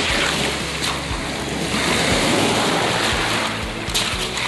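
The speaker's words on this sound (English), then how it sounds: "Waves are getting huge right now, so it'll break down this rock pile for us." Large ocean waves break and wash over a rock pile on a sea glass beach, a constant loud roaring surf with rumbling surges and wind buffeting the microphone, with no talking.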